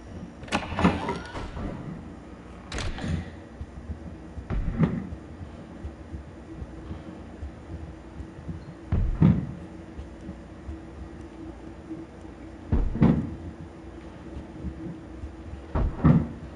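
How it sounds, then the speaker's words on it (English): A door swings open in the horror video game P.T., marked by a series of faint, scattered clunks and knocks spaced several seconds apart over a quiet, hollow background. "Oh, the fucking door opened."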